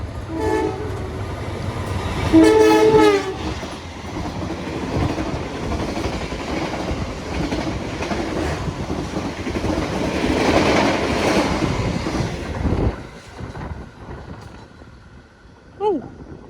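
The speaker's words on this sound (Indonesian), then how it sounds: "ini kereta api Singasari persiapan melintas langsung" The Singasari passenger train in Indonesia roars past at about 100 km/h, steady rumbling with a clattering rhythm, a brief horn-like tone early on, then the noise drops away abruptly as it clears.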